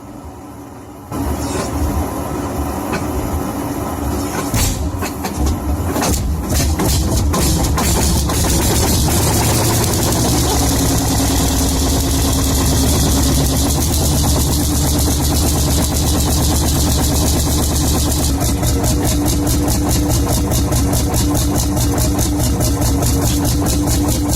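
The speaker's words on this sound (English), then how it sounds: "a vintage Italian tractor, starting up for the first time after a fuel system drain" A large vintage Italian tractor diesel engine cranks and catches after a fuel system drain, then settles into a loud, steady rumbling idle that runs on without a break.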